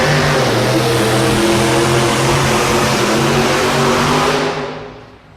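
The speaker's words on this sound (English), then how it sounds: "the blower belt came off the front of the engine and let go real quick" A two-wheel-drive pulling truck roars at full throttle at a 1994 NFMS truck-pull final in Louisville, Kentucky, a loud, steady engine drone with strong harmonics that drops off sharply near the end as the blower belt comes off and lets go.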